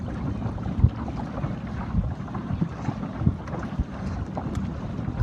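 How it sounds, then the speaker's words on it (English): Wind rushing past a small Sabot dinghy during a regatta race, a steady broad roar with faint water wash against the hull and soft gusty thumps, no voices. "this is going to be the best wind of the day coming here."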